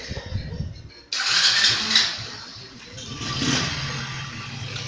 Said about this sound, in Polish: Najpierw odpalamy silnik.